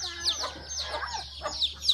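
Small chicks in a home chicken-raising area peep in faint, high, scattered chirps, a few close calls over a quiet background.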